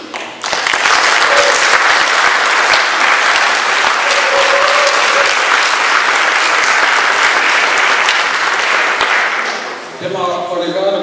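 A large crowd at an anniversary gathering of an Estonian beef cattle breeders' society applauds loudly and continuously for about ten seconds. The clapping then fades, and a voice and other sounds take over at the end.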